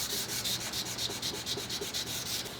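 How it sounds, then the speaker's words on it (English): Sandpaper rubbed by hand over a curved wooden Ruger 44 Carbine rifle stock, a close, steady rhythm of back-and-forth scratchy strokes. "Always keeping the sandpaper in motion"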